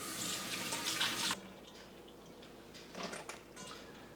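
Pumpkin seeds being rubbed together by hand in a bowl of water to loosen the stringy pulp, giving a close sloshing, splashing burst that quiets, followed by softer intermittent swishes.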